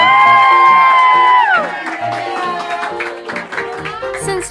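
Students cheer and shout together for a teacher's birthday as a cake is presented, a loud burst of crowd noise with whoops over bright music tones that settles into continued festive chatter.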